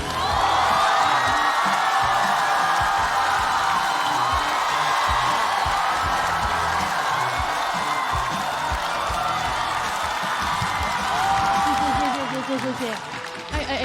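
A studio audience at a comedy show bursts into sustained applause and cheering, mixed with some whoops, to welcome a stand-up comedian. The crowd sound stays loud and dense, then fades near the end as a voice begins.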